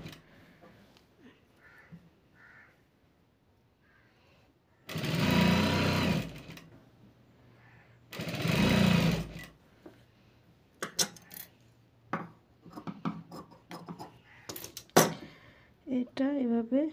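An electric sewing machine stitches a folded seam on a long-sleeved blouse in two loud whirring bursts of about a second each, with someone talking quietly before and between them.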